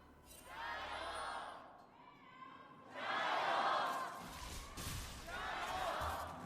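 An esports arena crowd at an LPL Winter 2026 match between Anyone's Legend and Weibo Gaming roars and cheers in three loud swelling waves, with faint thuds between them.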